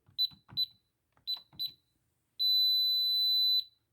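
Home alarm system keypad giving a few short beeps followed by one long steady beep during the disarm countdown, close and clear with quiet pauses between.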